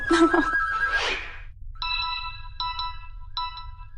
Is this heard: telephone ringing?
yes